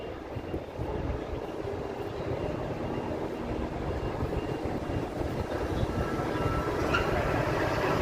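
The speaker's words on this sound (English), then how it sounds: "The monorail above us." A Las Vegas monorail passes overhead at night, a broad continuous rumbling roar that holds steady and swells slightly toward the end, heard from street level with no talking.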